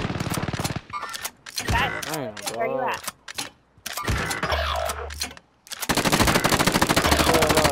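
Rapid automatic gunfire bursts from a Call of Duty: Modern Warfare match, loud close rattling volleys broken by pauses, with players talking over the shooting.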